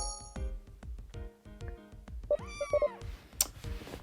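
Cats meowing in a wholesome cat video game, a quick series of close, clear meows in varied pitches, some short and chirpy, others drawn out, with no talk over them.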